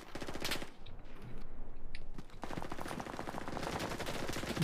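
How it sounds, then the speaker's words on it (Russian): Automatic gunfire in the Enlisted video game rattles in rapid bursts at moderate distance, two sustained volleys separated by a short pause, with no voices. "Я слышу выстрелы, но я не могу вас найти."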